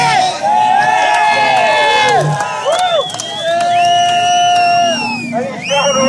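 A crowd at a tuff truck mud event cheers and shouts in a loud, sustained roar with whoops and children's cries over a continuous babble of voices.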